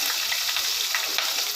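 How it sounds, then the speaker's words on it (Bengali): Chopped onions sizzling in hot oil in a pan on a clay stove, a steady close hiss with light crackle throughout and no voices. "এখন আমি দিয়ে দিলাম পেঁয়াজ কুচি"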